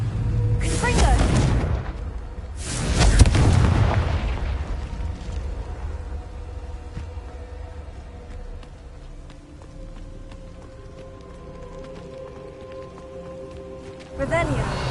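A Confringo fire spell in Hogwarts Legacy bursts twice in quick succession near the start, two loud booming blasts with a crackling, rain-like hiss that fades into a quieter ambient bed, before a third burst hits at the very end.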